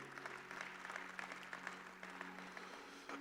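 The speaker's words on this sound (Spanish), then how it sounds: "Dale un buen aplauso a Cristo Jesús" Church congregation applauding together, a brisk dense patter of many hands heard from a distance, fairly quiet and even throughout, with a low steady hum beneath.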